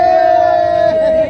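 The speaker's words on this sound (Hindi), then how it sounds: "शाहरुख खान के आने से भीड़ लग गई है यहाँ पे" A large crowd gathered in the streets of Chandni Chowk, Delhi, for Shah Rukh Khan's arrival, a loud, dense roar of many voices shouting together with a sustained yelling tone on top.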